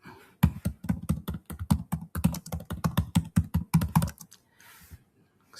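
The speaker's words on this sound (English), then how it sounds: "Excuse my typing." Rapid typing on a computer keyboard, close and clear, a steady run of crisp key clicks lasting about four seconds before it stops, with no voices.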